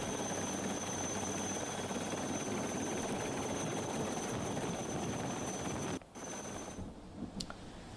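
A Coast Guard rescue helicopter working over a flooded village in Navsari during an operation to lift 170 stranded people gives a steady, loud rotor and engine roar that holds for most of the clip, then drops abruptly near the end.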